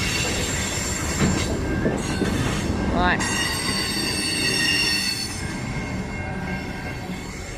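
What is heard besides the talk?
CN freight train wheels screeching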